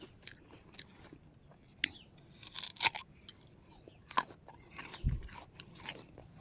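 Crisp unripe pear being bitten and chewed, quiet and close, with a few sharp crunchy bites spaced apart and softer chewing between them, no talking.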